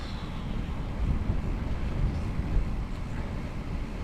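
Cold wind blowing steadily across an outdoor microphone at about 12 degrees, a continuous low rumbling buffet with gusts swelling and easing, no voices.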